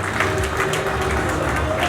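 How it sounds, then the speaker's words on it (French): An audience at a Cameroon talent awards ceremony applauds continuously, a dense wash of clapping from a crowd throughout the short stretch, with no pauses. "Est-ce qu'on peut encore applaudir pour lui, s'il vous plaît?"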